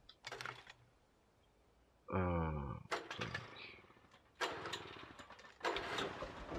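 In the Alan Wake video game, an old generator cranks and catches with a sudden rising mechanical whir partway through, set among quieter clunks and handling noises before and after.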